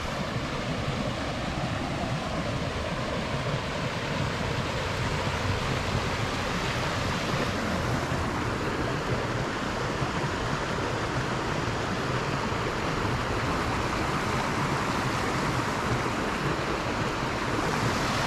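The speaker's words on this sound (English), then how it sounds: "look at this water flowing now" Steady broadband rush of river water flowing near a clogged culvert, continuous and fairly close, with no voices.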